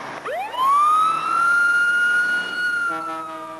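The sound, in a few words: emergency vehicle siren, ambulance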